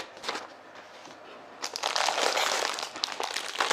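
Plastic wrapping around a USB heated vest being handled up close, a steady crinkling and crushing rustle that grows louder and busier halfway through.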